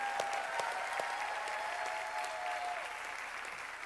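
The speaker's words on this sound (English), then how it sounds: "Can we give Alexia another hand clap?" Sustained audience applause at a live church service for Alexia, a steady wash of many hands clapping that holds for several seconds and fades slightly at the end, with a faint tone running beneath.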